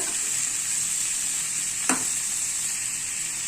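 Beetroot frying in oil in a pan, a steady bright sizzle throughout with a single brief stir or scrape near the middle, close and fairly loud, no talking.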